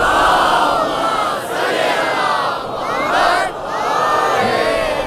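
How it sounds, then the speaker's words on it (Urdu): A large gathering at a majlis in Jacobabad loudly reciting salawat together, a swelling chorus of many voices in rising and falling waves, close and dense, filling the whole stretch. "اس سے بہتر اور بلند صلوات پڑھ لیجئے۔"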